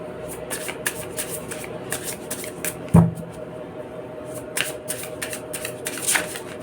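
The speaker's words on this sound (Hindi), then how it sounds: "पहले हम इसको अच्छी तरीके से शफल कर लेते हैं" A tarot card deck is shuffled by hand in repeated quick riffling bursts, crisp and close, with faint background hum between the flurries.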